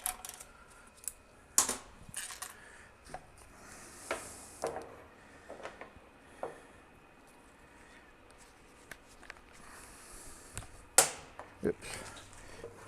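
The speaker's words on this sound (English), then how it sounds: "But this is your park reverse neutral detent. When you move it, click, click, click, click." The park-reverse-neutral detent of a 6L90 transmission from a twin-turbo Cadillac CTS-V being moved: a run of small, sharp, close clicks at uneven intervals over a quiet background.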